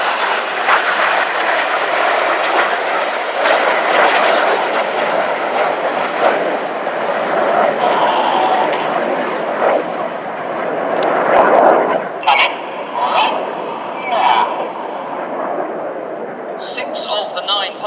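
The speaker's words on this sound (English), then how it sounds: "6 of the 9 pilots you're watching display right now are former Tornado bomber pilots." RAF Red Arrows jets fly a display overhead at Epsom College in October 2016, a loud, sustained roar of fast aircraft that swells and fades across the whole stretch, with spectators talking and exclaiming beneath it.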